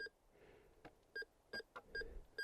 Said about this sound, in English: Sometimes a big chunk of iron will beep like something nicer.